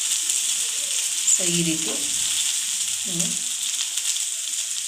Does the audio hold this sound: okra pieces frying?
yes